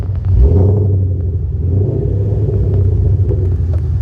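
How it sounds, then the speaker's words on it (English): A lowered 2014 Ford Mustang GT revs its exhaust, giving a deep, loud, close rumble that swells at the start and then holds a steady throaty drone. "Let me give it a little acceleration so you guys can hear the exhaust"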